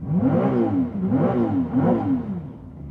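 The hybrid engine of a 2023 Ferrari 296 GTB revs three times in a row, each blip rising and falling in pitch, loud and close, with no talking.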